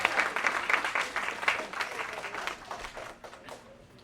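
An audience at a student publication celebration applauds after a personal speech, a burst of dense clapping that starts loud and gradually thins and fades toward the end.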